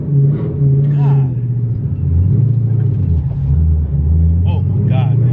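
From inside a 1250 whp Shelby Mustang GT500, a deep, heavy engine roar builds with rising pitch as the car pulls hard in second gear, while voices shout and exclaim over it.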